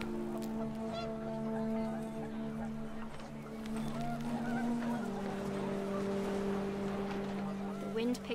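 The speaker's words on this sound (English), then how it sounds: "The wind picked up, and panicked geese appeared and quickly went." Panicked geese honk repeatedly in a stretched, harmonic chorus as wind picks up, with a steady rushing background and a voice speaking over it.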